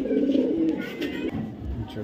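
A male racer pigeon from a club outside Dhaka coos up close, its low, steady cooing running through the whole short moment and fading near the end.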